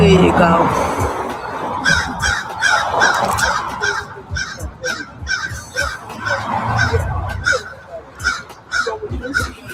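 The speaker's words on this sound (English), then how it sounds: "The crow, that's the crow talking to him." Crows caw repeatedly outdoors in short rhythmic bursts, near and fairly loud, mixed with honking bird calls while a person talks over them.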